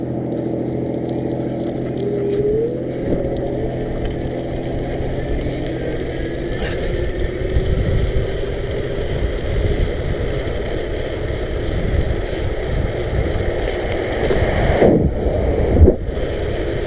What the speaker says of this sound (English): That's me pedaling it with the motor activated setup going on.